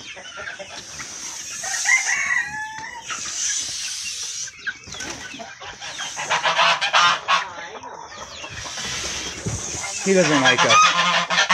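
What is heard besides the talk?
goose honking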